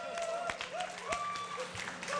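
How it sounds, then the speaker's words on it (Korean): A crowd at a Korea University labor graduate school evening event gives scattered, sharp claps over sustained tonal sounds and faint voices. "박수 누가 크게 치나 누가?"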